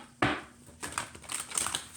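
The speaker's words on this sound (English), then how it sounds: "So I'm just going to do a few side shuffles and we'll split the deck on this one." A stiff deck of tarot cards being side-shuffled and split: a sharp riffle burst, then several softer rapid card flicks and slaps, close and quiet.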